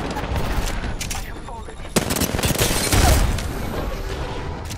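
Rapid bursts of automatic gunfire in the video game Apex Legends, loud and close, with sharp individual shots and a heavier boom, layered over busy game effects.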